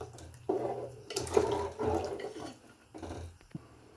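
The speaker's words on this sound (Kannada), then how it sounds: "ನೋಡಿ, ಹುಳಿಕಾಳು ಬೇಯಿಸಿಟ್ಕೊಂಡಿರೋ ನೀರಿದು" Cooking water from boiled sprouted horse gram poured into a pot, heard as several separate gushing splashes with short pauses between them and a small clunk near the end, close and moderately loud, with no voices.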